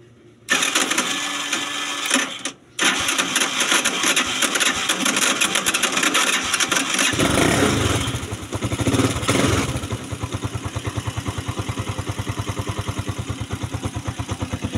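A traditional motorcycle tricycle engine runs loud and close, first a steady clattering drone, then settling into a fast, even idle rhythm of putting exhaust beats.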